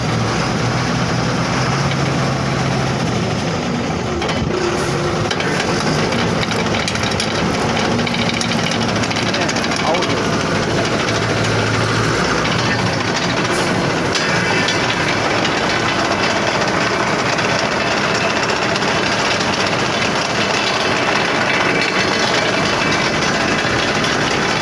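A truck engine revs loudly and continuously during a mechanic's repair check, a dense rumbling roar that holds steady with slight swells throughout, with voices occasionally speaking over it.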